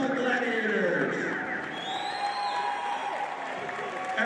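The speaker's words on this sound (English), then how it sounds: "a big round of applause for both of these professional gladiators" Audience applause and cheering after a professional fight bout, a steady crowd wash under an announcer's voice, moderately loud and continuous.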